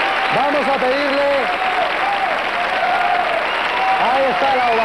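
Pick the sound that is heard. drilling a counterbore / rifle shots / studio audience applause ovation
studio audience applause ovation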